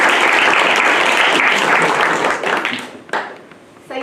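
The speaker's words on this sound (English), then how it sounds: "let's give our judges a round of applause" An audience at a university innovation challenge final event applauds the judges with loud, steady clapping that thins out and fades near the end.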